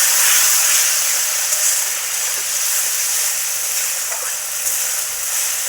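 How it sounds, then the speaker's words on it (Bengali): Spice paste frying in a pan with a little water added, for a banana blossom curry, giving a steady loud sizzle and hiss that runs throughout with faint stirring scrapes underneath, no talking. "হালকা একটু জল দিয়ে মশলাটা কষে নেব।"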